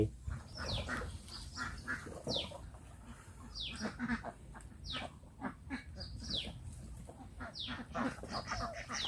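Several ducks quack repeatedly in short bursts, fairly close, with a busy farmyard background and other fowl calls mixed in.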